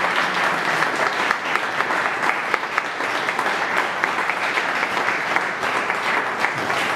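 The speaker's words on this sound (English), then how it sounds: "please give one more round of applause for our wonderful ringers" Steady applause from a concert audience for a handbell choir, dense continuous clapping at even loudness throughout, with no talking over it.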